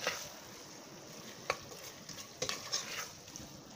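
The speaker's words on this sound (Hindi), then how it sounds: "अब हम इसकी" Kachri keema, minced meat softened with kachri, stirred and sautéed in a pan over medium heat, with a steady soft sizzle and occasional scrape of a spoon against the pan.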